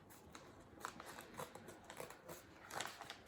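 Soft, crisp snipping and rustling of paper being cut, several short irregular cuts close by, fairly quiet with no talking.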